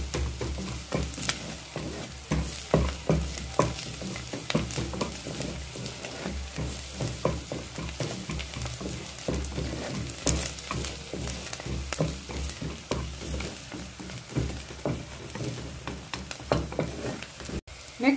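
Onions and garlic fry in a pan until brown, with a continuous sizzle full of dense crackling pops and occasional stirring clatter.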